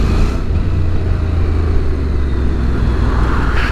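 A Honda NC750X motorcycle pulls hard through second gear with a loud, close, steady engine drone and a low, throbbing exhaust note throughout, with no talk over it.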